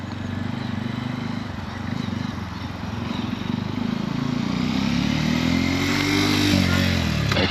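A Royal Enfield Himalayan motorcycle changes down through the gears on a road, its steady engine drone loud and close, with pitch shifts as revs drop and rise under heavy wind rumble.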